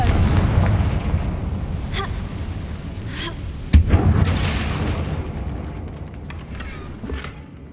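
A Confringo blasting spell goes off in a Harry Potter video game, one sharp loud burst that stands out over a constant rumbling game soundtrack, followed by a fading rumble.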